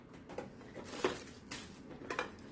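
Metal camping cooking kit pieces being handled, a few faint light clinks and rattles of pots and utensils knocking together close up, quiet throughout.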